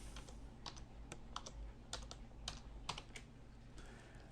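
Quick, irregular keystrokes on a computer keyboard spell out a single word, each click crisp and close over a faint steady hum.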